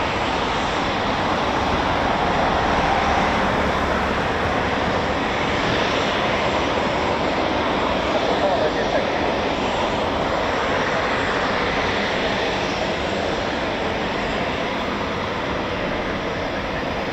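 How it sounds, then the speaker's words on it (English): Eurofighter Typhoon FGR4 jets starting up at an RAF station, a dense, steady broadband jet roar that stays loud and unbroken throughout with no pauses. "Plenty of Typhoons that started up."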